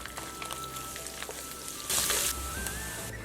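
Minced pork frying in hot oil over low heat with garlic and ginger, a steady close sizzle with light spattering pops and a short louder burst of hissing midway, no talk.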